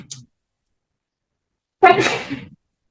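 A single sharp sneeze bursts out close by in a courtroom after a stretch of silence, preceded by a faint, brief sound at the very start.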